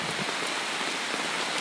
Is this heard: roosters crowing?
no